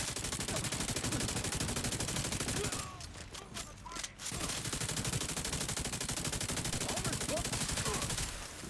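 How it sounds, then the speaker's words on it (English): A deployed turret in The Division 2 video game fires rapid continuous bursts, loud and dense, pausing briefly midway before the automatic fire resumes and carries on to the end. "Setting up my turret"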